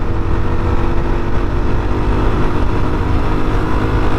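A Yezdi Scrambler motorcycle accelerating hard in sixth gear, its engine a loud, steady, close-up roar mixed with wind rush, sustained throughout without pauses.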